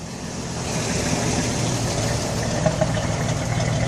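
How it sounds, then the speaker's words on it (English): A 1980 Chevrolet El Camino engine idles steadily with a low, rough rumble, close by and continuous, with no voices; the engine sounds unhealthy after the car sat unused a long time. "Got a couple of cars running. El Camino's running."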